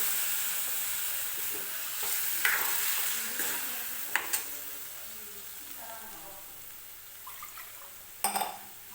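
Eggplant frying for khar vangi gives a steady sizzle and hiss as water goes into the pan, with scraping stirring strokes and a few sharp utensil clinks over the constant frying.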